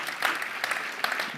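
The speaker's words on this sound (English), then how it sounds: "round of applause for the Edinburgh District Pipe Band." Brief burst of crowd applause for the Edinburgh District Pipe Band at a Six Nations rugby launch event, a dense patter of many hands clapping at moderate distance.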